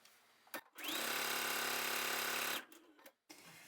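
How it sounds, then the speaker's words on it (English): A sewing machine chain-sews small fabric coaster pieces in one continuous, loud, close run of rapid stitching lasting just under two seconds. A few clicks and handling knocks come before and after it. "because I like to chain sew, I will do sets of 2 to do it all the way across"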